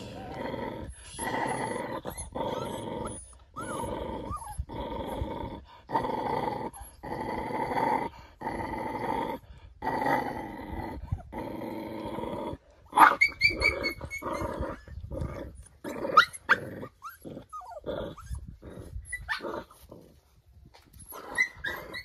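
Two 40-day-old village puppies scuffle and fight, giving repeated close growls, snarls and yelps in choppy bursts with brief gaps, and a sharper squealing flurry partway through; no talking.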